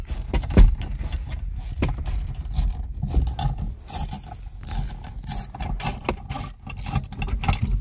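Ratcheting wrench work on bolts partly under the handbrake boot of a BL Mazda 3 during airbag control module removal, with repeated metallic clicks and clunks in irregular bursts, close by and without speech.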